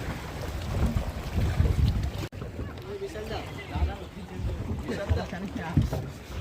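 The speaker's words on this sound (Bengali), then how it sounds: "স্পিড বোট রাইড বটে এটা।" A speed boat ride on open water with steady wind buffeting the microphone and a constant rush of water and hull noise, while people talk over it throughout.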